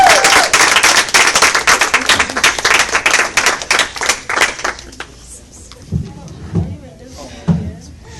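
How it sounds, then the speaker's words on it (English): Wedding guests give a loud, dense round of applause that fades after about five seconds, leaving someone speaking alone. "Now I would like everyone to give a warm round of applause for Gerald Burns"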